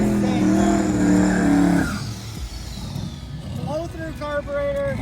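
A turbocharged Plymouth drag car at a drag cruise, pulling into the water box: a loud, harmonic engine roar that drops off midway, then climbs back in sharp rising revs.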